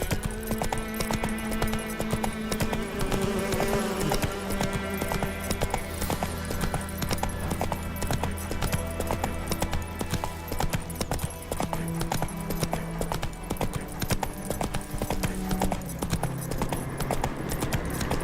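Roach, the horse in The Witcher video game, gallops with a steady, continuous clip-clop of hooves that runs the whole way through, set against a dense layer of game music and ambience.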